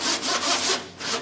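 Long flat sanding board scraping over body filler on a 1948 Willys CJ-2A Jeep, a steady close rasping rub in repeated back-and-forth strokes with no talk.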